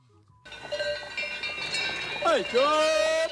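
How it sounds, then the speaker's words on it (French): In a Jura pasture, a farmer calls out to his cows with a loud, drawn-out, sliding voice. The call rings over a steady outdoor background with clinking cowbells and livestock sounds. "Et celui qui appelle ses vaches"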